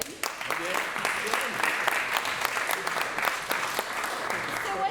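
Sustained audience applause greets a guest walking out at a tech salon kickoff panel, dense, steady clapping with a few louder individual claps and some voices mixed in.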